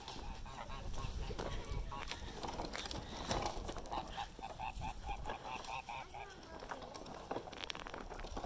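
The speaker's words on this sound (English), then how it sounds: "Say hi, geese." Several geese honk in repeated bursts nearby, outdoors, with a voice talking over them and rustling movement around.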